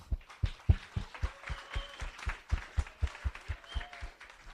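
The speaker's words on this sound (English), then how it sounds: "can I get a big round of applause for Jeff" A small crowd at a robotics scrimmage claps for the event organizer, sharp, evenly spaced hand claps standing out against a quiet, faint room.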